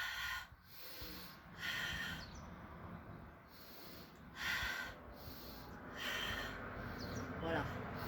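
Breathing during a Nordic walking exercise: faint, airy inhales and exhales repeat in a slow, uneven rhythm over quiet outdoor background.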